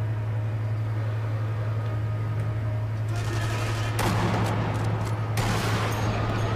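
A sniper rifle shot in the game Sniper Elite V2, a sharp noisy burst that cuts through a steady low hum, then a second burst follows, both with a rough, hissing tail.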